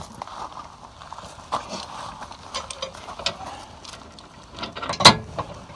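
Metal safety chains on an Airstream Basecamp trailer clink and rattle as they are unhooked from the stabilizer hooks, in quiet, scattered clanks close by, with one sharper metallic jingle near the end.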